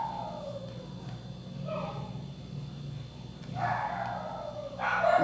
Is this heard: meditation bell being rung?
no